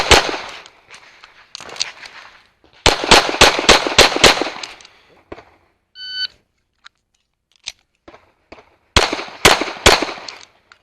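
Sharp gunshots from a practical pistol shooting match stage, fired in quick bursts of several rounds with short pauses between strings, loud and close, plus a brief electronic beep in the middle.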